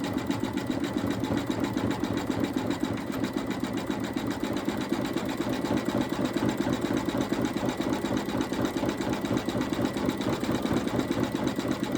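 An embroidery machine stitches an Easter bunny appliqué with a steady, fast mechanical needle chatter and motor hum, running continuously and close.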